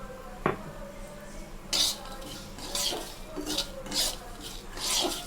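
A utensil scrapes semolina around a pan as it toasts, with repeated rasping strokes in an uneven rhythm, close and fairly clear, preceded by a single clink.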